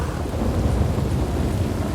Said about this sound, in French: Ou c'est l'orage. Peut-être l'orage.